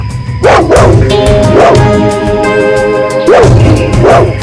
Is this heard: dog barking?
yes